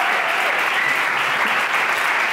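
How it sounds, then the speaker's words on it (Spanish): Studio audience applause on a television game show, a steady, dense wash of many hands clapping loudly and continuously without a break. "¡Fuerte el aplauso!"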